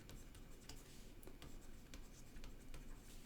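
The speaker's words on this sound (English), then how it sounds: "it's hard writing on one of these tablets if you've never tried it before" Stylus scratching and tapping across a tablet screen in steady short strokes while writing sentences, close and faint, with no talk over it.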